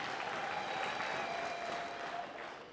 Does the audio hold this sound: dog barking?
no